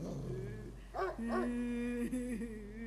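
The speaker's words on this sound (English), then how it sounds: "A dog is whining like it's afraid of something." Dog in the Spirit Hunter game whining fearfully, a couple of short rising whimpers followed by a longer drawn-out whine over a low hum, fairly close and fairly quiet.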